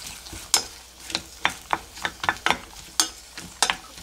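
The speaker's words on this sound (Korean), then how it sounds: "먼저 파를 조금 볶아주겠습니다" Green onion is stir-fried in a spoonful of perilla or sesame oil in a pan, giving soft sizzling under sharp, irregular clacks of a utensil stirring against the pan.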